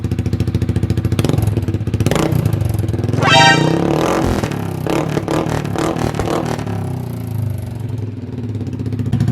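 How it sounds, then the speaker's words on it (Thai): A Yamaha X-Max scooter fitted with an aftermarket Sonic 79 exhaust idles loudly up close, then revs in a sharp, rising burst before dropping back to a rough, throbbing idle. "นี่เสียงท่อเกมัางามครับเรามาฟังกันว่าเวลาเบิ้ลมันจะหูดับเหมือนโซนิกหรือเปล่า"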